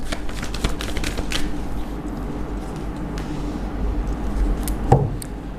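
Tarot cards are shuffled by hand in a steady, continuous rustle and riffle close to the listener, with a brief sharper tap near the end and no voices.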